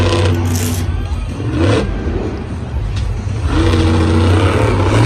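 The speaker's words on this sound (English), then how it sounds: "The truck sounds like it's having a little bit of problems too." A loud monster truck engine at a Monster Jam event in Santa Clara roars and revs unevenly, surging and dipping in bursts with a rough, faltering tone.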